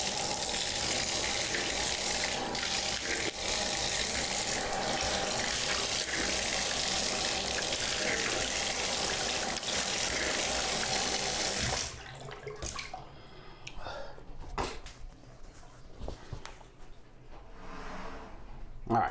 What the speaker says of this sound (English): Cool, let me wash my mouth off.